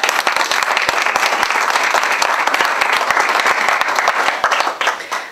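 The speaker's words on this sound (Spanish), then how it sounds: "para quien pido un fuerte aplauso" An audience applauds at a book presentation for the novel Y Celeste by author Verónica Linares. Many crisp individual claps merge into a lively, loud, sustained ovation that tapers slightly at the end.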